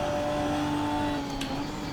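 A Ginetta GT4 race car from the 2017 SuperCup, driven in Assetto Corsa, holds a steady, loud engine drone with a clear harmonic whine and no talk over it.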